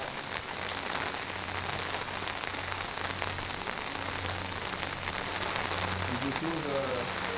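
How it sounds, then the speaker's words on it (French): Heavy rain pours steadily over an abandoned park, a dense continuous hiss of drops on surfaces with a low constant rumble beneath and no voices. "il pleut comme vache qui pisse"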